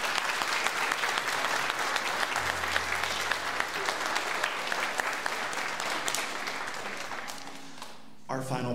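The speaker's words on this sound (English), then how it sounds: "So one round of applause for those individuals" An audience at a middle school spring band concert claps in a dense, sustained round of applause that fades near the end, just before a voice begins.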